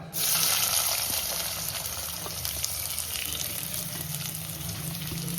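Sliced onions hit a hot pan for a chicken dish and fry with a loud, continuous hiss and crackle that stays steady and close throughout.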